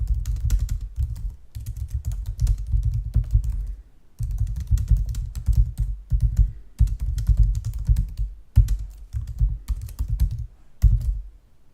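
Someone types text into a form on a computer keyboard, producing quick, close clusters of clicking keystrokes in uneven bursts with short pauses between them.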